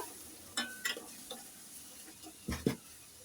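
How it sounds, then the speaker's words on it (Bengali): Small shrimp dropped into cooked spice paste in a pan for a winter vegetable curry: a faint low sizzle underlies a few sharp metallic clinks and scrapes of a spatula against the pan, close and sparse, with no talk. "এখন ছোট চিংড়ি মাছগুলো আমি দিয়ে দিলাম"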